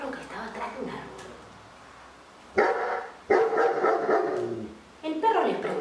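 A dog barks in a Spanish-language children's story about an ant searching for a pindó palm. Several bursts of barking come close together in the middle and at the end, with voices speaking before and between them.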